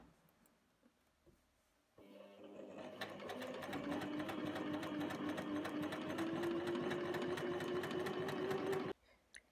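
Sewing machine stitching a Lombarde blouse, starting with a soft rattle, then running in one loud, steady, close stretch of about seven seconds before stopping abruptly.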